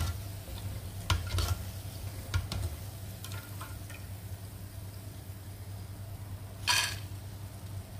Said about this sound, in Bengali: এভাবে আমি সবগুলাকে ভেজে নিব